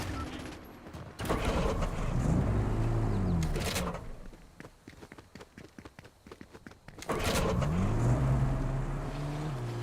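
Homer's car in Fortnite's Simpsons map, an engine that revs up in two loud surges with a quieter stretch of rapid clicking and tapping between them, close and up front, with brief voices faintly present.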